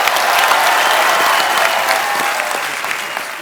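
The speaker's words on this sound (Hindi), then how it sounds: "धर्मेश के लिए जोरदार तालियां" Studio audience on a Hindi comedy talk show claps loudly and steadily for a dancer named Dharmesh, a dense, continuous wash of applause with no pause.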